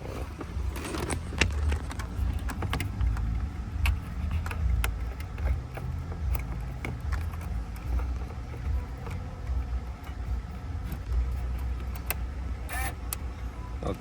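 A key turns in the steering lock of a 2003 Mercedes C240, giving scattered metallic clicks and rattles over a low, rumbling background. No voices are heard.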